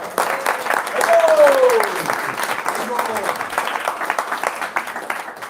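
Applause from a small audience at a Krishna conscious talk in a home gathering, steady clapping under a speaking voice and a brief vocal cheer.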